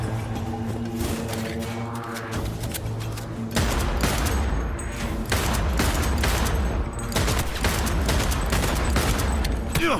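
Rapid, sustained gunfire from the video game Cyberpunk 2077, with dense overlapping bursts and shots that grow louder and more continuous partway through, layered over a steady tonal backing.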